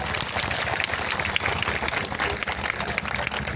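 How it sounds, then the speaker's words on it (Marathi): Audience applause at a speech by a Buddhist monk in Nashik, a dense continuous wash of crowd clapping, loud and steady throughout with no pauses. "एकदा जोरदार टाळ्या वाजवा बनतेसाठी"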